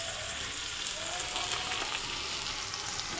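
Egg curry masala with potatoes sizzles and fries in a pan, a steady, close crackling hiss with soft stirring, no talking over it.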